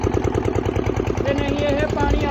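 A small diesel engine driving a water pump runs steadily at close range with a rapid, even chugging throb, with some indistinct voices faintly underneath.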